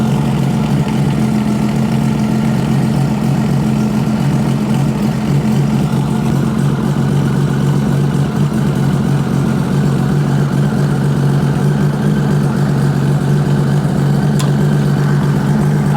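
A motorcycle engine idles steadily and loudly up close, a continuous low rumbling drone with no change in pace across the whole stretch.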